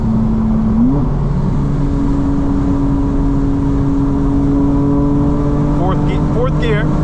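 A 900 hp 2025 BMW M4 CS engine holds a steady tone, then climbs in pitch as it accelerates hard in fourth gear near the end, loud and close.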